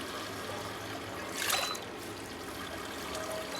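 Water trickling and draining out of soaked chickpeas held in a colander or bucket, a steady soft patter with one brief louder splash midway, close by and with no talking.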